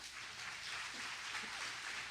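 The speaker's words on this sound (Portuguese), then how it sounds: "Aplauda bem forte ao Senhor." Congregation applause for the Lord at a church service, a steady wash of many hands clapping throughout, moderately distant and even.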